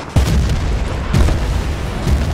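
Mortar shells burst in the video game Battlefield: Bad Company 2, several heavy booms landing roughly a second apart amid loud continuous battle rumble.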